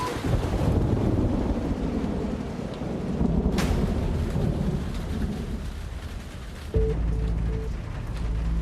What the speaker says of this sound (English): beautiful sunshine often gives way to ferocious thunderstorms